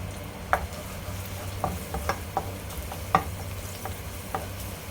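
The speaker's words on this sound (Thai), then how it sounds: "เดี๋ยวหอมนะครับกระเทียมสุกนิดนึงกระเทียมสุกก่อน" Garlic sizzles steadily in a hot pan, with a bright frying hiss throughout and a few light taps of a utensil stirring it.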